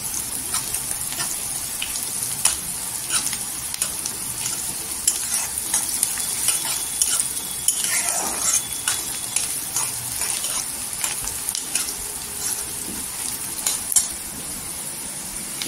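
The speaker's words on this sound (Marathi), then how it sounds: "इथे कांदा आहे ना गोल्डन कलरवर करून घ्यायचा" Chopped onion frying in a pan until golden for a spicy okra and potato dish, with a steady close sizzle, intermittent scraping stirs and clinks of a utensil against the pan.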